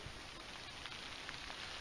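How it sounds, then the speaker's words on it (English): Rain falling outdoors at a metal detecting site, a steady fine hiss with no voices and no other distinct sounds. "Oh, it's raining, brilliant."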